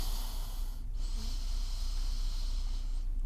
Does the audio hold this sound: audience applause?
no